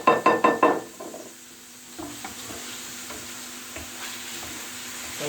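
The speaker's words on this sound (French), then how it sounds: "il faut bien remuer, que ça attrape pas" Peppers frying in a pan for a country omelette are stirred, with a quick burst of knocking scrapes at the start followed by a steady close sizzle and occasional utensil taps.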